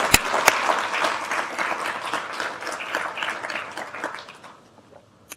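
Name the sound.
audience applause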